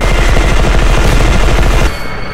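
Turret machine gun fire in the E.Y.E. Divine Cybermancy video game: a loud, continuous rapid burst of rattling shots that dominates the sound, then cuts off near the end, leaving lower background noise.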